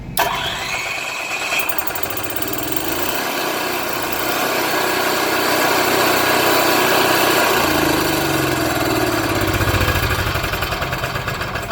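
A small onboard generator engine on a Winnebago Intent 31P motorhome cranks and catches, then settles into a loud, steady idle with a buzzing rhythmic drone that continues to the end.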